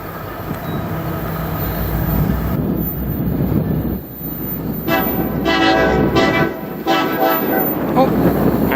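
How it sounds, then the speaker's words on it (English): CN 123 intermodal freight train rolls past the Sarnia VIA station with a steady rumble and clatter of wagons, punctuated by several loud horn blasts near the end. "we have the 123 Intermodal going by the Sarnia via station,"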